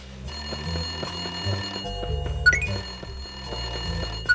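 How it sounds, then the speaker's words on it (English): A telephone ringing in a phone booth inside a school in the Fairly OddParents Breakin' Da Rules video game, with repeated electronic ring bursts over game music. "I guess you should answer that, Timmy."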